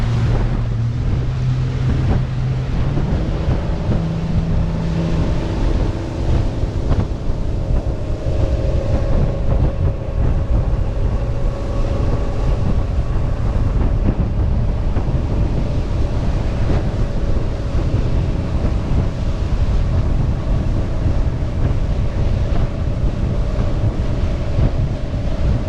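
A boat ride across bumpy, windy water, with a loud constant roar of engine, wind buffeting the microphone and waves slapping the hull, continuous and close throughout.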